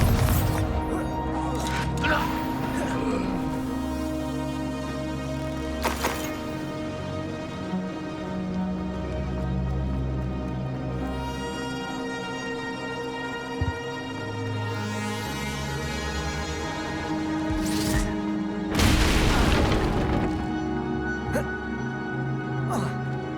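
Confringo and Expulso spell blasts in the Hogwarts Legacy video game, loud bursts and crashes over constant game music, with a strong explosion near the end; a voice talks in places.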